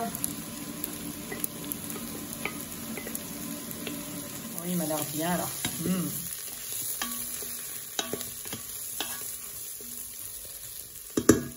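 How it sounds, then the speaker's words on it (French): Kebab meat sizzles and fries in olive oil in a pan with occasional stirring and scraping; a person speaks briefly over the cooking sounds. "On va faire rissoler un petit peu dans l'huile d'olive."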